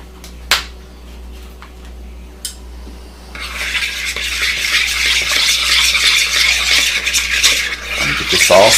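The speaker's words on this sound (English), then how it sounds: "get this all stirred up together" Milk being stirred into quiche mixture in a bowl: a few light clinks of a utensil at first, then a steady, busy scraping and swishing of the whisk against the bowl, close and continuous.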